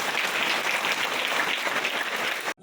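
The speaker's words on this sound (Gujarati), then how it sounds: "બધા પ્રવીણભાઈને એકવાર જોરદાર તાળીઓ" An audience gives Praveenbhai a round of applause at a temple gathering, a dense, steady wash of many hands clapping close by that runs unbroken for over two seconds before stopping abruptly.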